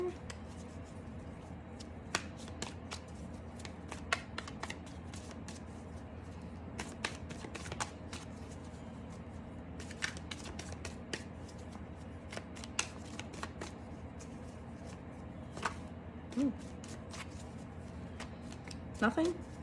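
Tarot cards riffled and shuffled by hand in repeated quick bursts of crisp flicking and snapping, close and fairly quiet, spread across the whole stretch with short pauses between rounds.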